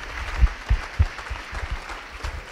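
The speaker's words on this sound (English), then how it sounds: "give these guys right here one more round of applause" Applause from a small group at a high school football banquet, with a few sharp claps standing out over a soft, uneven patter, moderately close and steady throughout.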